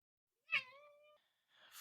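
A single drawn-out cat meow rises sharply and then trails off, close and fairly quiet in an otherwise silent room.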